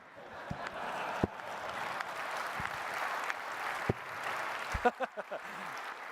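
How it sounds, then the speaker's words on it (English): Audience applause in a lecture hall after a talk, steady broadband clapping throughout with a few louder individual claps standing out near the end. "You're clapping for them."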